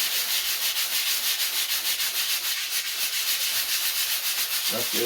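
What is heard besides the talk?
sanding rough canvas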